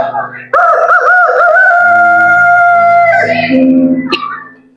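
A drawn-out rooster crow rings out loud and close, its long sustained call wavering and then breaking off sharply near the end.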